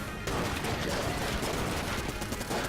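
A boss in Enter the Gungeon fires a Gatling gun in a dense, continuous roar of rapid shots. The loud, unbroken burst of gunfire fills the space, with possible faint game noise beneath it.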